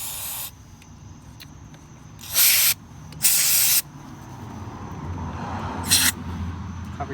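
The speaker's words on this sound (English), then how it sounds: "Carb cleaner. And we're just gonna spray down these carbs." Carburetor cleaner sprayed onto motorcycle carburetors in three or four loud hissing bursts of about half a second to a second each, close up, over a quiet background hum.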